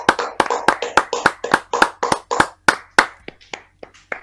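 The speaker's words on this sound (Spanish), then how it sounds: "Hay que aplaudir, son las 8." Evening applause at eight o'clock: hand claps in a steady, fairly quick rhythm, each one sharp and close, growing sparser and lighter toward the end, with no voices.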